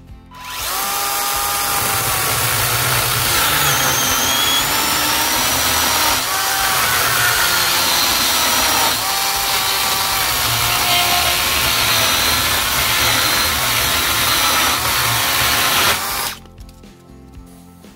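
A Makita cordless chainsaw, DUC302 or DUC356, cuts steadily through wood in one long continuous pass with a high whining motor and chain rasp, loud and close, stopping abruptly near the end.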